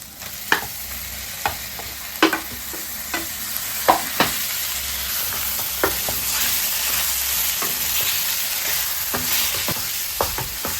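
Chicken sautéing in ginger garlic paste for South Indian chicken sukka: a steady close sizzle throughout, punctuated by sharp, irregular spoon clicks against the pan as it is stirred.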